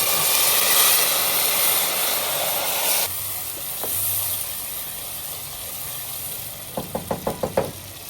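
Tomatoes go into a hot pan for chicken daal, a loud hissing sizzle that eases after a few seconds, followed near the end by a quick series of sharp knocks.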